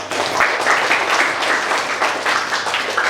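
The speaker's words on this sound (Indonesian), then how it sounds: "Kasih tepuk tangan buat" A classroom claps for a student group that has just presented its poster, a dense, even burst of many hands with a slight rhythmic pulse, fairly close and loud, with no talking over it.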